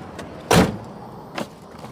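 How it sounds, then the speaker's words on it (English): A muscle car's door shuts with one solid thump during a stealth camping setup, followed by a fainter second clunk about a second later, with no talk. "Close the door."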